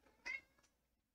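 A cat in Minecraft with the DireWolf20 1.18 modpack gives one short, quiet meow, then a softer second chirp, against near silence.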